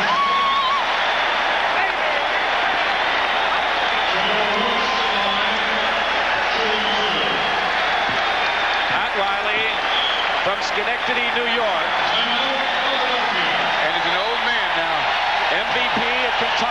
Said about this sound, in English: some of the fans have already begun celebrating